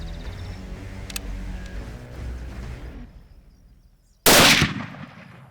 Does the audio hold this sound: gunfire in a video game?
yes